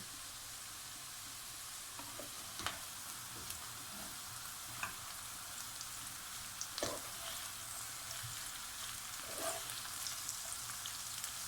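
Carrots and beetroot frying together in a pan over high heat for borscht: a steady close sizzle with scattered crackles and small pops throughout, no voices.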